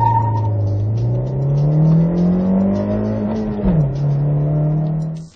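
A 2011 Honda CR-Z hybrid car accelerates, its engine whine climbing in pitch over several seconds, then briefly dipping before holding, loud and close.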